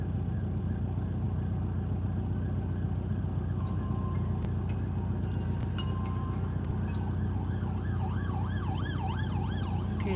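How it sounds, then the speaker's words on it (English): An ambulance siren wails up and down in steady cycles in Gatlinburg during a fire, growing clearer toward the end over a constant roar of traffic. "I can hear sirens."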